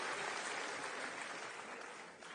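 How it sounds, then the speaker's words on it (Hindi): Faint, steady applause from a gathered audience at an event with Delhi's chief minister, a soft, even wash of clapping that tapers slightly toward the end. "तालियां धीमे हैं भाई।"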